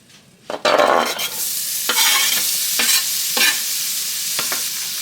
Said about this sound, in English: All right, so now we're gonna add these onions.